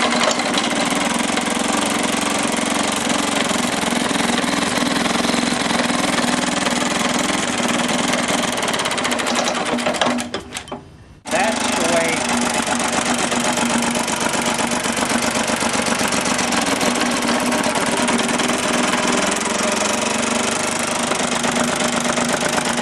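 A 1913 Evinrude rowboat outboard motor runs with a loud, rapid, knocking putter that drops out for about a second midway, then picks up again steadily to the end.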